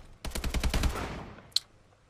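AK-12 rifle fire in Call of Duty: Advanced Warfare, a rapid automatic burst of about ten close, loud shots ending in a tail, followed by a single sharp metallic click.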